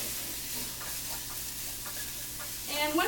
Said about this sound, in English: check my garlic. It's just about right. I just want to toast it a little bit.